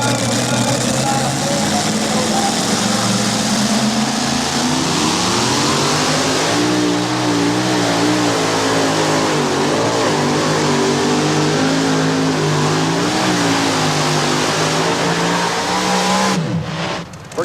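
A 1986 Chevrolet S10 two-wheel-drive pulling truck roars at full throttle through a truck pull, its engine note climbing and wavering loudly and continuously before cutting off abruptly at the end, with a commentator's voice over the noise.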